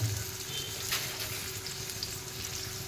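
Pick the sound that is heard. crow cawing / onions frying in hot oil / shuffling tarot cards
onions frying in hot oil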